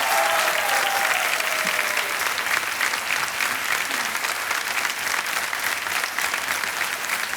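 A studio audience at a TV quiz show applauds loudly and steadily throughout, a dense unbroken wash of clapping with some crowd noise.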